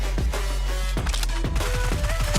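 UMP submachine gun fire in a video game, loud close bursts of rapid shots in quick succession with echoing tails, and no voices.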